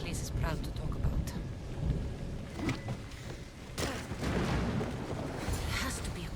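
Thunder rumbles and rain falls in a storm in the video game Assassin's Creed Odyssey, a steady, dense wash of noise with heavier rolls throughout.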